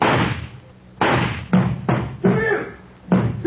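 Knocking on a door in a classic radio drama, five or so heavy thumping raps spaced unevenly over a few seconds, close and loud with nothing else heard.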